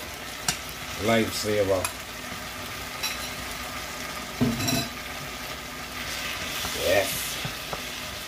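Corned beef (bully beef) sizzles in a frying pan while being stirred, with soft scraping and stirring bursts over a steady frying hiss; a person speaks briefly.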